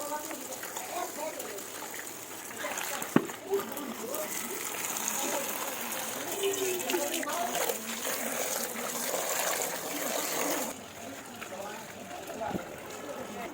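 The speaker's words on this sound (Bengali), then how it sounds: "তো চলো এগুলো ধুয়ে নিই। বালতিতে ঢুকে সুবিধা হয়।" Leafy greens and vegetables being washed by hand in a bucket of water, with steady close trickling and splashing throughout and a sharp clunk near the start, under a faint background voice.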